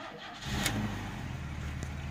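Carbureted 2.8-liter engine of a 1986 Chevrolet Celebrity firing on a cold start, a short crank catching into a rough, steady running rumble close by.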